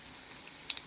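Zucchini frying in a pan gives a faint, soft sizzle with a couple of sharp little pops near the end, quiet and close, with no talking.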